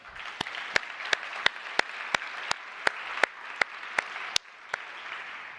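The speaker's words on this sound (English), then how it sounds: "I think we should give Eric a big round of applause" A conference audience at Real World Crypto 2020 applauds steadily, a soft wash of clapping punctuated by sharp, evenly spaced claps that stand out near the front throughout.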